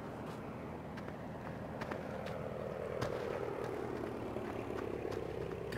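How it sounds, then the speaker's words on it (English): A low, steady engine drone from an airplane flying low over a farm in Farming Simulator 2015 hums on without a break, faint and constant, with light clicks and movement on top. "Sound like that plane's gonna land around my head"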